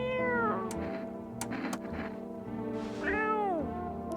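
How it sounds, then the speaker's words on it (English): A cat meows twice in a doorway, two clear drawn-out rising-and-falling cries about three seconds apart, close and fairly loud with no talk over them. "There's a weird looking cat in my doorway."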